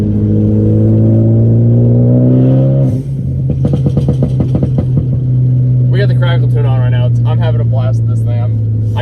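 A Jeep engine rises in pitch as it revs, then drops and settles into a loud, steady drone while driving, with talking heard over the engine in the second half.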